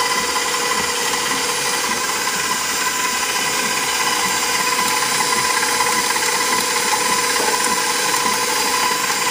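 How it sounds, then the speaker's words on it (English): Electric mixer beating banana bread batter with eggs, a steady close whirring drone that runs unbroken and fairly loud throughout. "I'm going to stop my mixer because I want to mix everything together."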